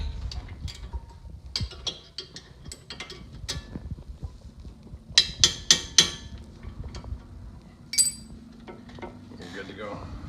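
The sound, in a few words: light tap on a Chrysler 300 brake part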